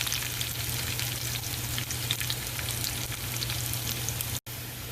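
Curry leaves fry in oil over a medium flame with a constant dense sizzle and crackle, close and even, with a brief cut near the end and no talking.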